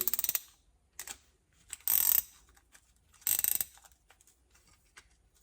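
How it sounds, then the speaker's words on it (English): A 17 mm ratcheting wrench turning a sway bar link nut on a 3rd-gen Toyota 4Runner, with several short bursts of rapid ratchet clicking, close and loud, separated by quiet pauses. "So I could take a 17 millimeter ratcheting wrench like that, hold the Allen key"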